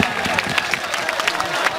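Audience at a mushaira claps to welcome poet Shaista Sana, a brisk, fairly close patter of hands with crowd murmur.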